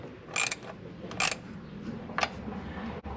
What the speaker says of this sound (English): quarter-inch socket, and just get them tightened down.